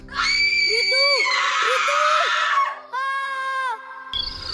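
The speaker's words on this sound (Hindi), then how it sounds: "तभी एक भयानक चीख जंगल में गूंज उठी।" A horrifying scream from a horror story echoes through a forest, one long, loud, shrill wailing cry that wavers, breaks off, then returns in a shorter burst before fading.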